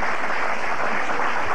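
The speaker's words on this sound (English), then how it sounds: "I'll applaud that." Audience applause at a 1980-1981 varsity quiz bowl between two high schools, a steady dense wash of clapping filling the whole moment without a break.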